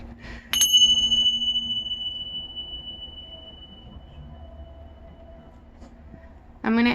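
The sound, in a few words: loud bells ringing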